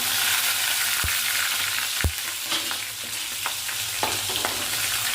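Green chillies sizzle in hot oil tempering for onion-free avalakki upittu, a constant close hiss with occasional sharp taps and scrapes of a spoon against the pan, no voices.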